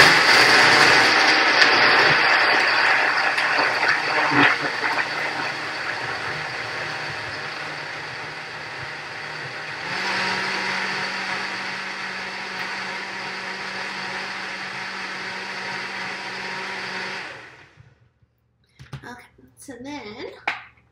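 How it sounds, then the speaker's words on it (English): A kitchen blender whirs steadily with its lid secured, mixing a nutrition drink for about seventeen seconds, its motor pitch shifting midway before cutting off, followed by brief clatter. "you'll just put the lid on the blender, secure it in its place, and then mix that up"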